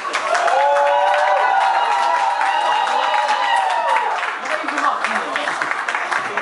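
Concert audience at a Nijmegen music venue applauding a featured singer, sustained crowd clapping and cheering with whistles and voices riding over the top, easing slightly near the end.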